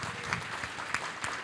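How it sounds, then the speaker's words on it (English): An audience at a food insecurity panel claps in a brief, steady round of applause with a few sharper individual claps standing out. "Can we give Matt and Justin another round of applause?"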